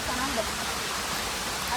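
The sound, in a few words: Sirimane Falls waterfall roaring in rain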